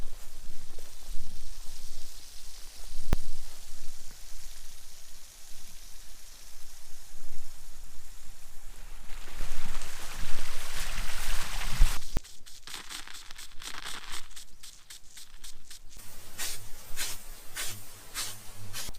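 Farm sprinklers spray water from connected hoses, a steady close hiss that grows brighter midway, then turns into rapid rhythmic ticking pulses of spray.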